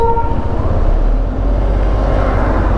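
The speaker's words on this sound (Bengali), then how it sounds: "হিমালয়ান রেলওয়েজ একটা রাউন্ড ট্রিপ করে দার্জিলিং থেকে ঘুম হয়ে আবার দার্জিলিং।" A Darjeeling Himalayan Railway train on its round trip from Darjeeling via Ghum rumbles loudly close by, with a brief horn-like tone at the start over the steady heavy running noise.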